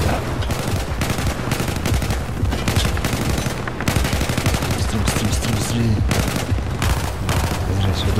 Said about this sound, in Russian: Понял, начинаем отстрел!